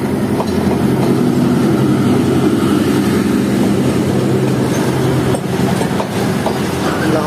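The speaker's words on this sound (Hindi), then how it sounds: "ये रेल कार निकल रही है 6427 लोकोमोटिव के साथ, ZCU 20" A rail car hauled by locomotive 6427 rolls past at close range, a loud continuous rumble with rhythmic wheel clatter over the rail joints and occasional faint squeal, no voices.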